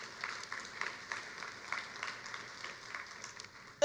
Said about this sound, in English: you should give yourselves a round of applause for coming